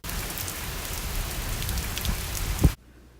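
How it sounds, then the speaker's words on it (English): Steady rain falls in a dense, even hiss for nearly three seconds, then stops abruptly with a short thump, leaving near silence. "It's been a little rainy."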